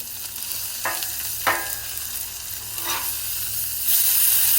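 A ribeye steak sizzles steadily on a Blackstone griddle, cooking toward well done, with a continuous frying hiss broken by a few sharp spatula scrapes and slaps as the meat is flipped.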